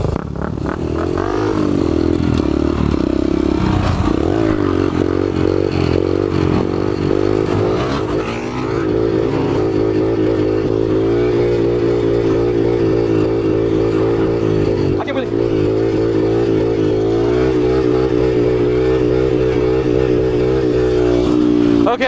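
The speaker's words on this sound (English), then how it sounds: "Let's see who can wheelie farther." Motorcycles revving hard during a wheelie contest, with engine note rising and falling continuously over about twenty seconds, loud and close, while people talk over the noise.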